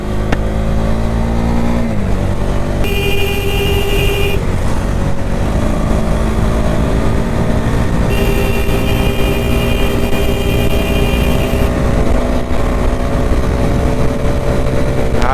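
Bajaj Dominar 250 motorcycle cruising at high speed on an open road, a steady loud engine drone with heavy wind rush throughout, the pitch holding level apart from a brief dip and recovery.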